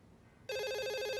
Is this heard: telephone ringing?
yes